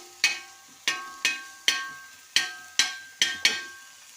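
Metal spatula chopping a chicken cheese omelette in a pan, eight sharp, evenly spaced clanks against the pan, each with a short metallic ring, close and clear with no talk.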